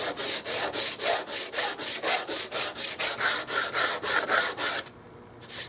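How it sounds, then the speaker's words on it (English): A Turkish walnut gun stock for a Carl Stiegele 16 gauge is rough sanded with a 50 grit block in quick, even back-and-forth strokes, about fifteen rasping passes close up before the rubbing stops. "I'm going to flip it back on this side where I can rough sand this side."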